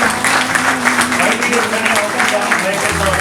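A crowd claps together at a Christian holy matrimony ceremony for Tika Chaudhary and Babita Chaudhary, a sustained, evenly pulsing round of applause from the gathered guests, with a voice continuing over it.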